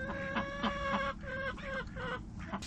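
Chickens clucking in a coop shared with ducks, several soft, tonal clucks and short calls in quick succession, fairly close but quiet, with no talking.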